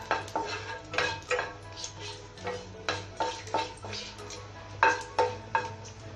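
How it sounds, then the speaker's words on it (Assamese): Cardamom, cinnamon and cloves are fried in a pan while a metal utensil stirs and clinks rhythmically against it, sharp repeated taps over a faint sizzle, close up. "ইলাচি ডালচেনি অকণমান আৰু 2টা লং এইকেইটাও দি দিছোঁ লগতে এতিয়া অকণমান ফ্ৰাই কৰি লওঁ"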